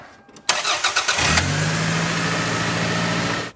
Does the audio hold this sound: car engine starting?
yes